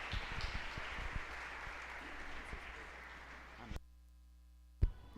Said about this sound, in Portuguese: Vamos aplaudir ao Senhor e glorificar o nome dEle.